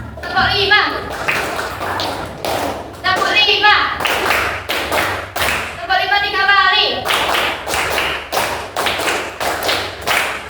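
Primary school class of children clapping out a rhythmic five-clap pattern in bursts, sharp unison claps and thumps between stretches of children's voices and a teacher talking.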